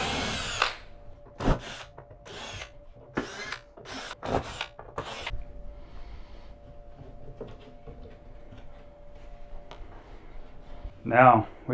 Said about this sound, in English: now I need to get my drill